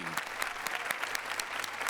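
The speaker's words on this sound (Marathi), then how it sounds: "तेव्हा एकदा जोरदार टाळ्या सगळ्या कलाकारांसाठी." An audience at a Marathi comedy show gives loud, sustained applause for the actors, a dense, even burst of clapping with a light crowd murmur underneath.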